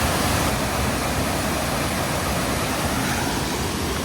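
Mountain valley stream on Sobaeksan's Cheondong trail in summer, rushing like a waterfall: a loud, steady broadband roar of churning water, close by and continuous throughout, with no voices.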